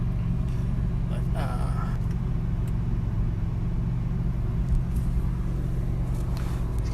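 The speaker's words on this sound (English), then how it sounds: "just gonna show you what a car sounds like when it's driving" Steady Ferrari 458 engine and road rumble heard from inside the moving car, loud and constant throughout with no pauses.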